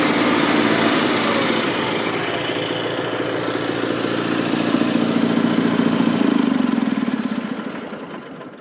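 Small smoking motors run steadily close by, a buzzing engine drone that swells slightly before winding down as they are shut off.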